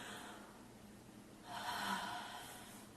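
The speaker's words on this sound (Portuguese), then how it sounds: "Pare, relaxe e respire de forma profunda." A deep breath drawn in audibly and let out slowly, one soft, close breath cycle with a stronger rush in the middle.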